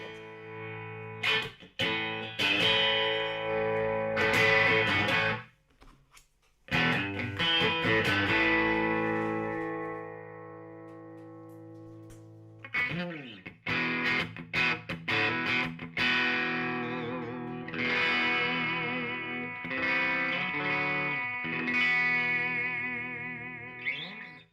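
Distorted electric guitar played through an amp with effects, a run of chords and single notes, some ringing out, with brief pauses.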